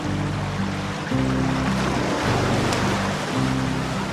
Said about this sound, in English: Can you hear the waves washing on the shore?